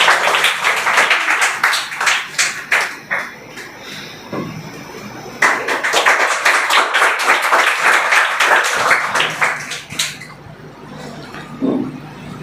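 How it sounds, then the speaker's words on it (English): A school audience at a Teachers' Day program claps in two lively bursts of applause, the first tapering off, a brief lull, then a second round that fades out. "Please give a huge round of applause."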